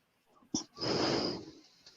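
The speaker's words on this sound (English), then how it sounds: "I can hear something snorting." A single short snort is followed by a longer wheezing, snoring breath, close and fairly quiet against a near-silent background.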